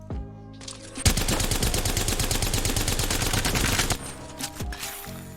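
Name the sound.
Havoc rifle firing a full magazine in Apex Legends video game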